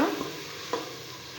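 Tomatoes with salt sauté in a pan for tomato rice, giving a soft steady sizzle close by. A couple of spoon scrapes stir through the mix.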